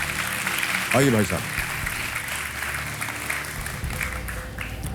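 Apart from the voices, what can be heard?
studio audience applause welcoming a guest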